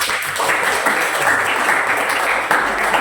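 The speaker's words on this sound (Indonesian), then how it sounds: "Tepuk tangan untuk kita semua." Students applauding in a classroom lesson on coding and artificial intelligence, an even patter of many hands clapping at moderate loudness for about three seconds with no speech.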